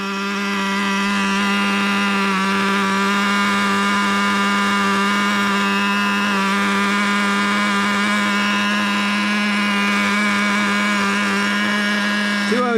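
A Traxxas Revo 3.3 nitro RC truck engine runs at a high, steady whining drone, close and loud throughout, with a slight dip in pitch near the end.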